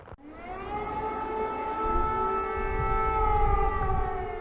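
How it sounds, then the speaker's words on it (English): Air raid sirens wail over Kiev as the first snows fall, a sustained, rising drone with layered overtones that holds steady from afar, with no voices. "Air raid sirens sound as the first snows fall on Kiev"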